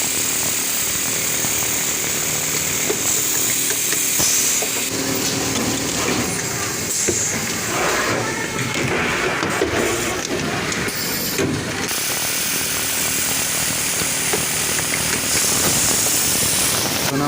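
A JAM JT882 automatic pocket setter sewing machine runs loud and continuous, a dense mechanical whir and clatter with shifting tones throughout.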